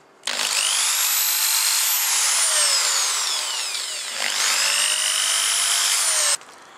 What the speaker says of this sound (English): I just need to drill about 5mm into the body of the guitar